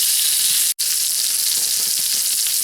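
A steady, loud sizzling hiss of something cooking over the hot flame of a Bud Light aluminum bottle stove, continuous apart from one brief dropout near the start.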